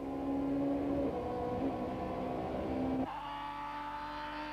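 Super Touring race cars from 1995 lapping the Zwartkops circuit in South Africa: a continuous droning engine note heard from a distance, steady and moderately loud, shifting slightly in pitch near the end.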